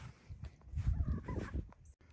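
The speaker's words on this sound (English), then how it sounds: "My chickens and my turkeys are doing all right." Turkeys gobble and chickens cluck close by, a short flurry of poultry calls, fairly quiet and without talk.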